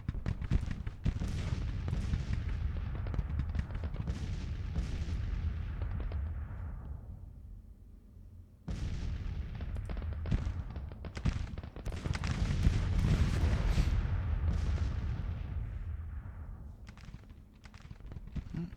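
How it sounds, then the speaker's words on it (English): Civil War artillery in a strategy video game fires counter-battery volleys, a steady stream of loud booming shots and rolling gunfire that pauses briefly, then resumes just as dense. "Come on, I said counter battery fire."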